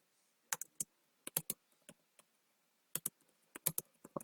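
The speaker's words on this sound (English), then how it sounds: "You type a message." Chat message typed on a computer keyboard, a few quick bursts of close, crisp key clicks separated by short pauses, with no talking.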